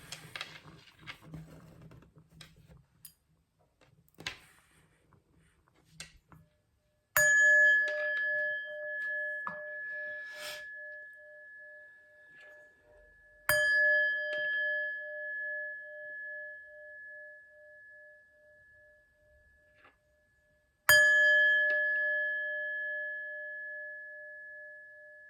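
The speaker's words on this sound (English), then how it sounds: "But first, let's chime." A set of chimes rings out in three separate strikes, each leaving a long, clear, sustained tone that slowly fades, after a quieter patch of light tapping and clicking at the start.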